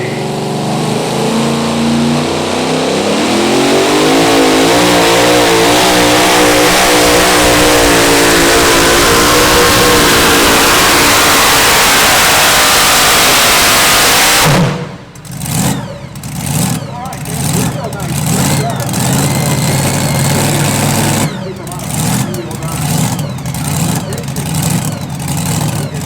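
A super modified two-wheel-drive Chevy pulling truck roars at full throttle at a truck pull in Jerseyville, Illinois, a loud sustained engine howl that rises in pitch, then breaks into choppy revving bursts as the run ends, with crowd and announcer noise around it.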